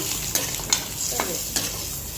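Food fries in a pan with turmeric and salt, a steady sizzle under several sharp spatula scrapes and taps as it is stirred, close and with no talking.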